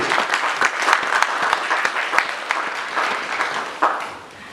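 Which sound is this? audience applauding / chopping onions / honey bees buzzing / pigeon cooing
audience applauding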